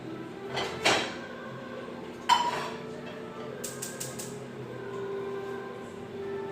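A metal pot clanks and knocks twice in a home kitchen as butter goes into it for breakfast eggs, short close bumps over a quiet background, followed by a few lighter taps.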